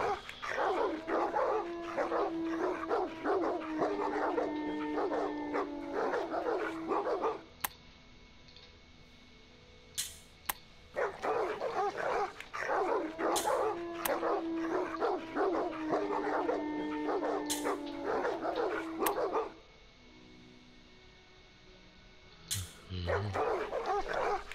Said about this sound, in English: can the dogs just shut up?